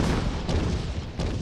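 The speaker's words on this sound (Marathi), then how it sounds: "सीमेवर पाकिस्तानकडून तोफांचा जोरदार आणि सतत मारा सुरू होता." Artillery shelling at a border battle at night, a dense rumbling roar of heavy booms with a couple of sharper blasts, loud and sustained with no voices.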